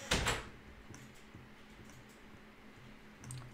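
A door opens in Roblox Piggy with a short clattering burst right at the start, then a quiet game ambience with faint ticks and a soft thud near the end.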